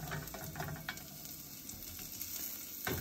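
Garlic and onion sautéing in a pot for Ayurvedic sautéed moong with spices, a steady close sizzle with soft crackle and occasional stirring scrapes, no voices.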